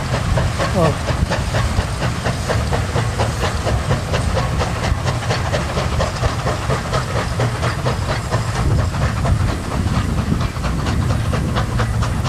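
An SY 2-8-2 steam locomotive working at the Tangshan coal mine, with a steady hiss of steam and rapid rhythmic chuffing and clanking of dump cars, continuous and fairly close.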